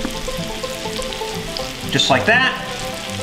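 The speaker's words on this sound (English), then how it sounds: "We'll fry up some of the squash for you guys." Summer squash fries in a hot pan, a steady sizzle running throughout, with a brief swell of louder crackling near the end and a short spoken remark over it.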